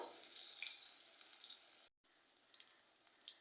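Battered pumpkin flowers fry in hot oil with a soft, faint sizzle and scattered crackling pops, cut by a brief silence midway, with no talking.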